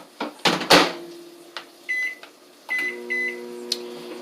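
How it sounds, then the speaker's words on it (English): Microwave oven running while cooking cheesy scrambled eggs: door and handling clunks, then a steady low hum with a high electronic beep tone starting partway through, fairly close and alone without talk. "And then you put it in the microwave."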